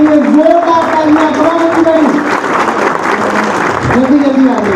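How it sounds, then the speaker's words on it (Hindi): An audience at a business program in Kathmandu, Nepal claps loudly and steadily throughout, with a voice calling out over the applause. "अपने लिए और उनके लिए जोरदार तालियां।"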